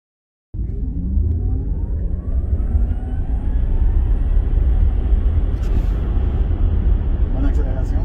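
An electric car, a Ford Mach-E or a Tesla, sets off from silence into a strong, sustained acceleration. A rising whine and steady road rumble build and hold loud and close inside the cabin.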